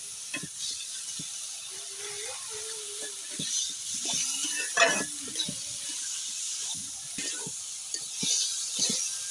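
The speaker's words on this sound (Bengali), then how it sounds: "এবার ভালোভাবে নাড়তে হবে।" A spoon stirs banana stem fry in a pan, village-style Bangla cooking: faint scraping strokes and soft clicks repeat irregularly over a low sizzling hiss.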